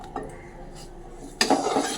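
Fried pointed gourd pieces lifted from a pan with a metal utensil: a quiet stretch, then a burst of clinking and scraping against the pan near the end, close and distinct with no talk.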